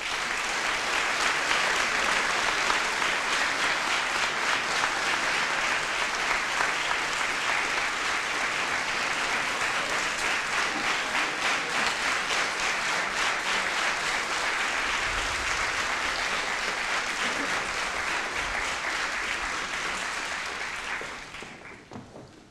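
Warm, sustained applause from a large concert audience for a brass band and its conductor, dense and even throughout before tapering off at the very end.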